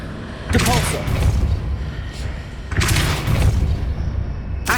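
The Depulso force-push spell is cast twice in Hogwarts Legacy, each time a sudden broadband whoosh-and-thump burst followed by a roiling decay over a busy ambient game background.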